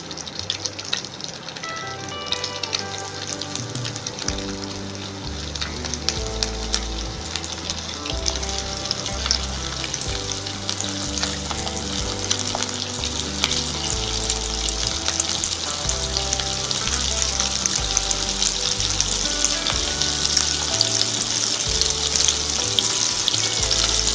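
Fish cutlets deep frying in hot oil give a steady, loud sizzle and bubbling that builds over the whole stretch, with a few faint clinks and stirring sounds underneath and no talking.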